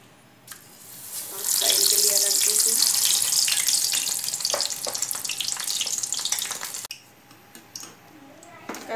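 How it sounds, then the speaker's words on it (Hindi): Cabbage rolls dipped in batter fry in hot oil, a loud continuous crackling sizzle that swells and holds before easing off near the end, close by. "वापस बैटर में डिप करूँगी और हॉट ऑयल में फ्राई करूँगी"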